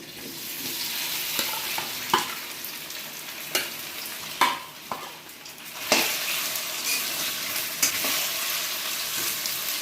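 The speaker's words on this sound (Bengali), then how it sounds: "বেবিকর্নগুলো ভাজা হোক, তারপরে দেখাচ্ছি" Baby corn frying in hot oil gives a bright, continuous sizzle close by, punctuated by sharp clicks and taps of a utensil against the pan every second or two, with no voices.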